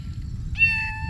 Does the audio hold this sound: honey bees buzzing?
no